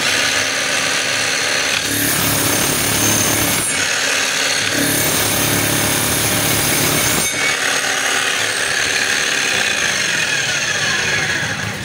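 Electric chipping hammer under repair test, rattling loudly and continuously in long bursts with brief pauses between runs, close up and alone.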